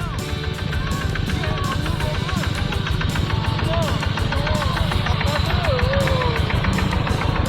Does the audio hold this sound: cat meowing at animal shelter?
no